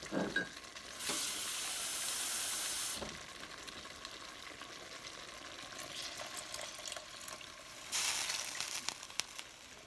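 Water poured into a hot cast iron pot for beef and noodles, giving a sharp hissing sizzle that flares up, fades into a steady bubbling simmer, then bursts loud again near the end, close by with no talk.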